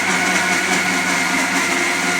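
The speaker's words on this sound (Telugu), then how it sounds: "ఆ పాలు వేసేసి కొంచెం వాటర్ వేసేసి ఇంకా మిక్సీ పట్టాను" A mixie blender whirring steadily and loudly as it grinds idli with milk and water, one continuous motor drone with no pauses.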